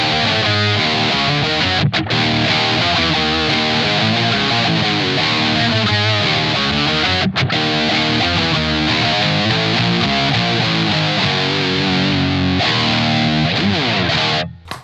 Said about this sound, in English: that is an old Electro-Harmonix octave multiplexer